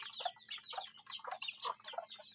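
Month-old chicks cheep and cluck busily while feeding, a rapid, close chatter of overlapping high calls with no pauses.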